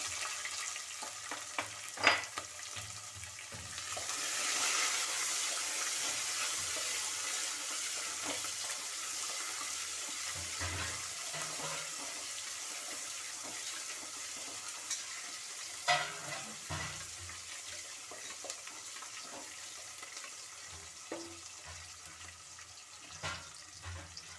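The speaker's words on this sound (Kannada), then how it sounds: "ಇವಾಗ ಇದಕ್ಕೆ ಈರುಳ್ಳಿನ ಹಾಕೊಳ್ಳೋಣ ಕಟ್ ಮಾಡಿ ಇಟ್ಕೊಂಡಿರುವಂಥ ಈರುಳ್ಳಿ" Chopped onion frying in a pan for palak rice, a steady, fairly loud sizzle that keeps up for the whole stretch, with occasional stirring scrapes and clinks over it.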